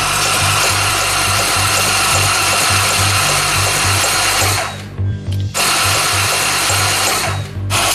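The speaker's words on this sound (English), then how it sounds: "This means turning the engine over without spark, so all the internal components are lubricated properly" A Harley FXR motorcycle engine turns over on the starter without spark to prime it, a loud, close, steady mechanical whirr that cuts out briefly twice.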